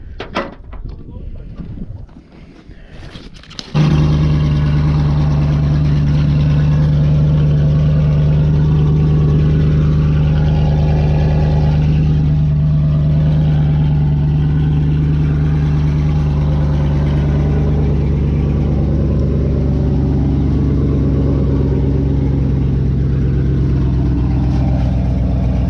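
A cammed maroon truck engine, which had sat all winter, cranks and catches after a few seconds of quiet shuffling, then settles into a loud, steady, lopey idle as it warms up.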